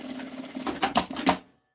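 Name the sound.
sewing machine stitching a fabric bag strap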